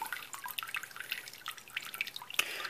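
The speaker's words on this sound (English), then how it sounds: "take your filter basket, pull it out, let whatever drain out." Water drains and drips from a filter basket lifted out of a pet frog tank, a close scatter of irregular drips and small splashes over quiet, with no talking.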